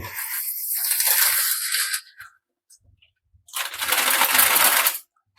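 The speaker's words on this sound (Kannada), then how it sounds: "ಈಗ ಅದಕ್ಕೆ ಶಾವಿಗೆ ಹಾಕ್ಬೇಕು ಶಾವಿಗೆ ಹಾಕ್ತಾ ಇದ್ದೀನಿ" Dry vermicelli for upma poured into a pan comes in two loud, close, rustling cascades, each lasting about two seconds with a short quiet gap between.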